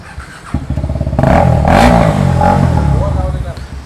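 A KTM motorcycle engine with its exhaust removed revs loudly up close, a rough rapid idle pulse rising into a roaring blip and falling back, with someone talking over it.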